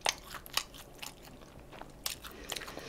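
Close, crisp crunching bites and chewing of Nene Snowing cheese fried chicken with a salty, crunchy powdered coating, heard as irregular sharp crackles with no talking.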